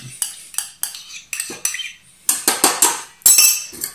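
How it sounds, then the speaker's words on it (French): Yeast is mixed into liquids in a bowl with a utensil, producing a quick series of close metallic clinks and scrapes against the bowl in uneven bursts with brief pauses between. "je mélange ma levure aussi"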